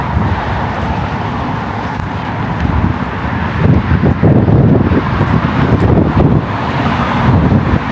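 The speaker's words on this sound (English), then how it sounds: "the breeze, the way the wind is blowing, so nice" Wind blowing outdoors in Yakutsk, Russia, a steady loud rush buffeting the microphone, with a low traffic-like rumble beneath that swells in the second half.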